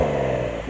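A Porsche 911 engine revving, a brief loud, close burst of growling engine tone that dips slightly toward the end.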